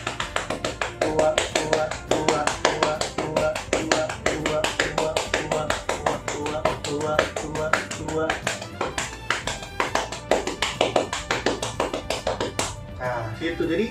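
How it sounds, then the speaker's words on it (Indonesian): Bare hands tap out a drum beat in place of drumsticks, a steady run of sharp, close slaps and claps that repeats at a quick, even rhythm with talking over it. "sebenarnya tangan kita juga bisa pengganti buat stick drumnya juga."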